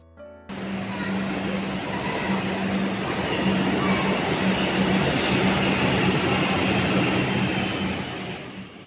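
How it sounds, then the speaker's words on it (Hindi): Kolkata metro trains pulling in and out of a station, heard as a loud, continuous rumbling roar with a steady low hum running underneath for the whole stretch. "एक के बाद एक मेट्रो जा रही है, आ रही है"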